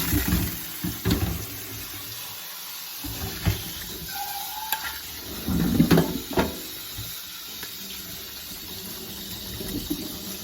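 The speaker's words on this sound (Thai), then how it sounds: "เดี๋ยวจะล้างน้ำเย็น" Blanched fiddlehead ferns rinsed in cold water at a sink, with intermittent splashing and running water, a few louder gushes and clatters, and quieter pauses between.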